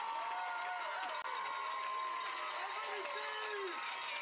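A crowd cheers at an 11-year-old Little League state tournament baseball game, a faint wash of distant yelling and clapping sitting under a commentator's ongoing play-by-play.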